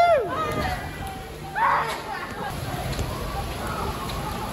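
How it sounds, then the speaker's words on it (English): Heavy monsoon rain pours steadily in Phnom Penh, Cambodia, a dense hiss close around, with a person's voice briefly calling out over it. "it's monsoon rains right now"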